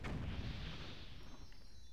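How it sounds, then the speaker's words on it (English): A Super Mario Galaxy boss blows up in one loud, booming blast that rumbles and slowly fades over about two seconds. "And now he explodes. Like every Mario boss."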